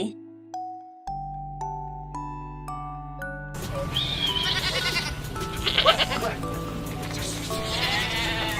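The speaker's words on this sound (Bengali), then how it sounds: "ছয় ছাগলছানা লাফিয়ে চলে" A few chiming notes rise step by step, then young goats bleat repeatedly over bright backing music and a voice.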